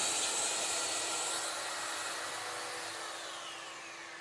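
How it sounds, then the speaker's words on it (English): Mafell MT55cc plunge saw running free, a steady high motor whine with a constant hum beneath, slowly fading as it spins down, no speech. "In the MT55cc plunge saw, you have some truly innovative features"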